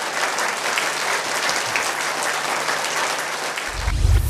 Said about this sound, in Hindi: आप मेरे लिए तालियां बजा सकते हैं।